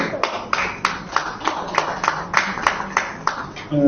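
Clapping at a book festival poetry event as a speaker is invited to the stage with birthday wishes, a rhythmic run of distinct, evenly spaced hand claps over a low crowd murmur, close and clear.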